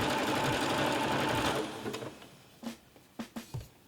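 A sewing machine runs a small zigzag stitch along jersey T-shirt fabric in a steady continuous whir for about a second and a half, then stops and gives a few short separate bursts and clicks.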